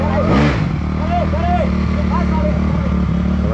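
A motorcycle engine drones steadily close by, its low running note continuing under loud conversation.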